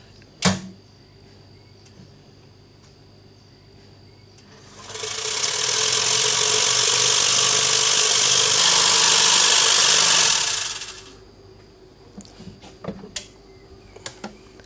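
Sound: lab machine mechanically grinding plant tissue cells

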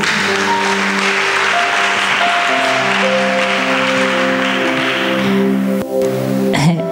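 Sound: applause

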